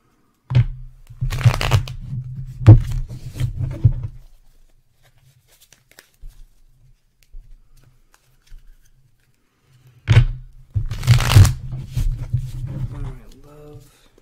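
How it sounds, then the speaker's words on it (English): Tarot cards being shuffled in two close, crisp bursts of riffling and sliding, separated by a quiet pause, with a person talking over parts of it. "I'm going to shuffle the cards here again for a second"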